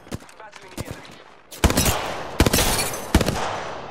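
Rapid bursts of gunfire from the battle royale video game Apex Legends, in a duos match: a quieter early stretch, then loud, close volleys with sharp shot clusters repeating over several seconds.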